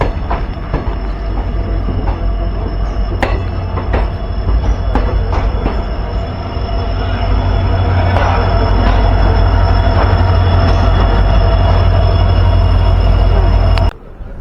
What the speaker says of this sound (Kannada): ಕೇರಳ ಟ್ರೈನ್ ನಿಂತಿದೆ ನೋಡಿ